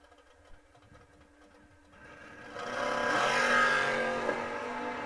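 Drag race cars launching at a Sunday memorial drag race, among them a Camaro, their engine roar swelling from a low rumble into a loud, sustained blast over the last three seconds.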